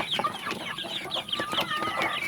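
Young native village chicks cluck and peep in a busy, overlapping chatter of soft chirps and clucks, close and continuous, with no talking.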